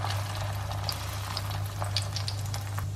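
Bread frying in melted butter in a hot pan, a steady soft sizzle with light crackling over a constant low hum.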